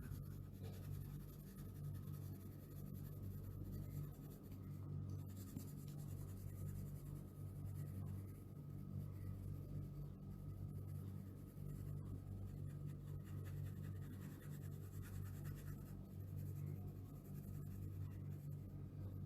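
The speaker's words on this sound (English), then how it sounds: "So a little bit pressure on the 4B pencil only." A 4B pencil shades an apple drawing on paper with light pressure, a continuous soft scratchy rubbing that keeps an even rhythm throughout, close and quiet with no talking.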